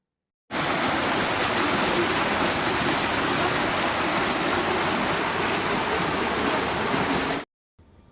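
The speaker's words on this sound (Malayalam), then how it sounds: "ജൽജീവൻ മിഷന്റെ പൈപ്പ് പൊട്ടിയുണ്ടായ ശക്തമായ വെള്ളമൊഴുക്കിനെ തുടർന്ന് റോഡ് തകർന്നു" Strong, steady rush of water gushing from a burst Jal Jeevan Mission drinking-water pipe on a road, a loud continuous broadband roar for about seven seconds, then stopping abruptly.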